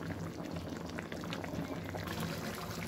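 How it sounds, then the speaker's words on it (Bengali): Rohu fish being braised with two large tomatoes in a pan on the stove gives off a steady, close bubbling simmer that carries on without a break and with no voices over it. "বড় বড় দুইটা টমেটো দিয়ে রুই মাছ ভুনা করতেছি।"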